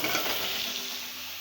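Soybean chunks deep-frying in hot oil for an egg and soybean curry, giving a steady close sizzle with soft stirring that eases slightly toward the end; no voices.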